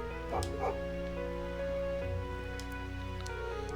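Small dog barks and yips in the Trails into Reverie video game, a few short bursts over a steady bed of game music, no talking.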